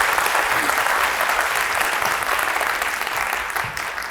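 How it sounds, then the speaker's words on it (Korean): Audience applause at a talk, a dense, sustained burst of clapping from a crowd in a hall that holds steady and then slowly tapers off. "박수 한번 쳐주세요."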